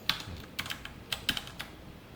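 Code is typed on a computer keyboard in short, quiet bursts of key clicks with brief pauses between them, close and alone.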